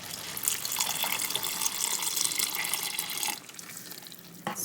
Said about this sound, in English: But I just put 1 cup of water.